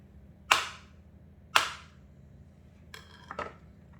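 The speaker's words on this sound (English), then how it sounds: "If you're chopping up carrot, you can just do this." Two sharp, loud knocks of a knife hitting a cutting board while chopping carrot, then a couple of softer chopping taps, in a quiet room.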